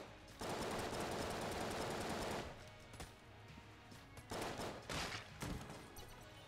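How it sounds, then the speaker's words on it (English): Rapid submachine-gun-style bursts from a weapon in the game Enter the Gungeon: a long sustained volley of fast shots, a pause, then several shorter bursts, loud and close with no talking. "So now it's much more similar to the submachine gun that we already had."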